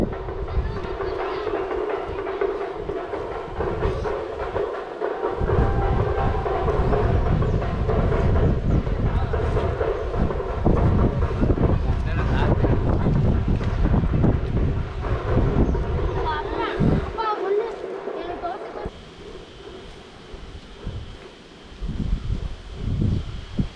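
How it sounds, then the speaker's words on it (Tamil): Water pouring down Thirumoorthy Falls (Panchalinga falls) gives a steady, broad rushing roar that fills the whole stretch, with some voices and wind noise mixed in nearby. "சவுண்ட் கேட்குது, வாட்டர் ஃபால்ஸோட சவுண்டு, தண்ணி ஊற்றுற சவுண்டு"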